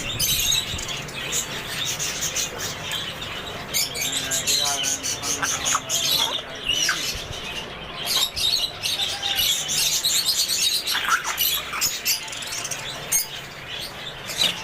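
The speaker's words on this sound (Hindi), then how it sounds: "ऑस्ट्रेलियन तोते" Australian parrots at a bird market in Sukkur, Sindh, keep up a dense, loud, busy mix of chirps and squawks with fluttering, while people talk nearby.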